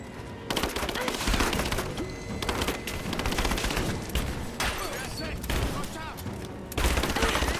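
Rapid gunfire in a firefight from the video game Rise of the Tomb Raider: sustained bursts of automatic fire and overlapping shots fill the mix in loud, dense volleys, pausing only briefly between them.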